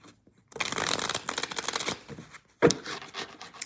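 A thick deck of playing cards shuffled by hand: a long riffling burst of rapid card flutter, a brief pause, then a second sharper shuffle, close and loud with no voices.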